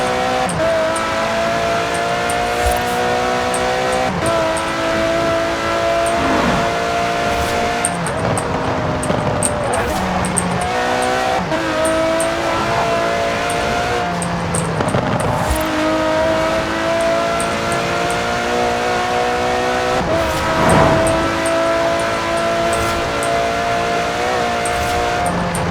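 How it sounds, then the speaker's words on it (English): An Aston Martin Vulcan in Forza Horizon 4 drives through the English countryside, its engine loud and constant, rising and falling through gear changes, with bursts of revving and occasional tire squeal while a voice talks over it. "let's go through a relaxing drive in the English countryside in my Aston Martin Vulcan"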